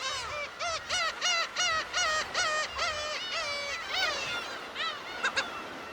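A black-tailed gull on Dokdo gives a rapid series of about a dozen nasal, cat-like mewing calls, each rising then falling. The calls are loud and close, with a few shorter cries at the end.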